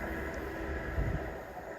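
A train rolls past Sprey Point on the seafront at Teignmouth, a low, steady rumble heard from some distance with a faint rise near the middle and no talk over it.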